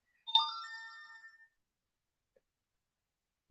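A loud phone ringtone sounds once as a short, bright melodic chime that quickly fades, followed by near silence.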